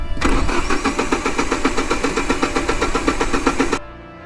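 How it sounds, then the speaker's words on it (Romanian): A car engine in a high Himalayan valley cranks steadily with a rapid rhythmic chugging from the starter, then cuts off abruptly without catching. "N-am reușit să le pornim mașina,"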